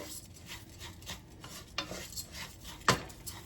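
Long grain white rice sautés in a pan with soft shuffling scrapes and spoon stirs over a faint sizzle, capped by one sharper metallic clink; quiet and close, with no speech.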